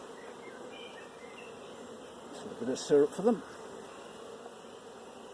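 Honeybees buzz softly at a hive entrance in a steady close-up hum, with a few brief louder thumps partway through and a person speaking quietly nearby.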